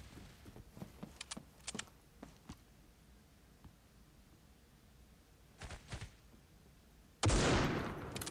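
Video game gunshots: scattered sharp cracks and short bursts, fairly faint and spaced out early on, a small cluster later, then a loud close blast at the end that rings on.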